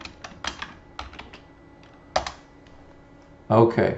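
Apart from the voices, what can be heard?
typing on a computer keyboard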